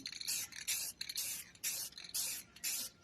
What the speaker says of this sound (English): now we're back to the spray paint. We're going to just lightly mist